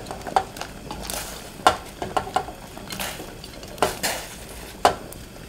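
Onion is stir-fried in a hot pot, with a soft sizzle under intermittent clinks and scrapes of a utensil against the pot, close and moderately quiet.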